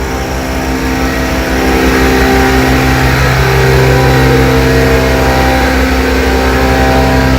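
Car engine with a blower idling steadily at about 200 degrees, a loud, constant mechanical hum and whine that holds unchanged throughout, with no voices.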